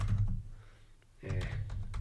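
Typing on a computer keyboard during a programming lab exercise gives soft, close key clicks with a brief pause and then faint taps. A low murmur sits underneath throughout.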